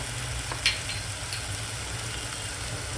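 Red chilli powder, coriander powder and ginger-garlic paste frying in oil in a pan for dum aloo, a steady soft sizzle with a sharp stirring scrape near the start and faint clinks, with no talk.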